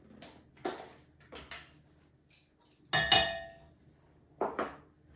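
Cocoa powder being mixed in a bowl for a WWII-era cake, heard as a few scattered clinks and scrapes of utensil against the bowl, close and fairly quiet with pauses between.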